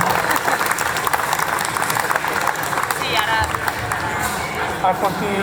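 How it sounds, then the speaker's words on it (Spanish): Loud, sustained clapping from a crowd, dense and continuous, with a few voices talking faintly through it. "Un fuerte aplauso a Martín Correa."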